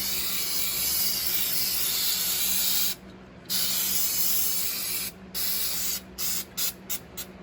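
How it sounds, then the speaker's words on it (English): Goof Off adhesive remover sprayed from an aerosol can onto a BMW E46 drift car, first as one long loud continuous hiss, then as a series of shorter bursts that become quick, choppy squirts at the end, close up. "basically just an adhesive remover. So we'll spray it on."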